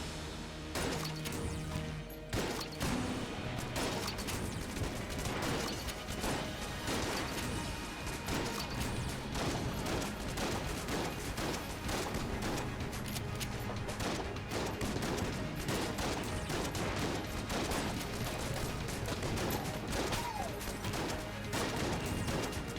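A Winchester rifle fires repeatedly in the bullet-hell video game Enter the Gungeon, its cracks and impacts piling into a dense, continuous barrage of crashes and shots that runs without pause under busy game noise.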